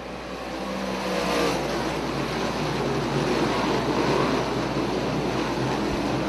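Race cars roaring around the Fonda Speedway short track during a Short Track Super Series race: a loud, dense engine drone that builds over the first second and then holds steady as the field passes close by, with no talking.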